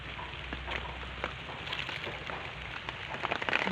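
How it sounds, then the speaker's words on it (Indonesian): Rain falling on a bean farm during harvest, wind-driven, a steady wash of patter with scattered drop ticks, moderately loud and continuous, with no voices. "Masih hujan, kita istirahat dulu, ada angin, masih hujan juga basah."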